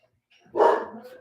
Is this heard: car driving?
no